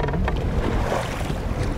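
Waves roll and slosh against a fishing boat on Lake Ontario, a steady washing roar mixed with wind buffeting the microphone, with no talk.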